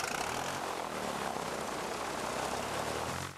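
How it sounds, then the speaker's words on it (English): A stunt plane's propeller engine roars steadily during takeoff, a loud continuous drone that fills the whole stretch with no voices. "Okay, we're going. There's no getting out of it now, it's chocks away."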